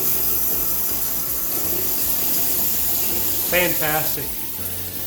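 A freshly cleaned shower head sprays a steady stream of water that hisses and splashes close up for the whole stretch, with someone briefly speaking over it near the end.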